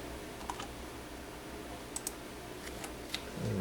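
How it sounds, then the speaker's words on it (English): Typing on a computer keyboard, faint scattered key clicks in an irregular rhythm over quiet room tone, heard alone without talk. "My keyboard."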